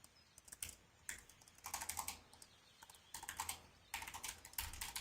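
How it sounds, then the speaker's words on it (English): A computer keyboard clatters in rapid bursts of typing during a game stream, close-miked and fairly crisp, with short pauses between flurries of keystrokes. "Sorry, you can hear my keyboard."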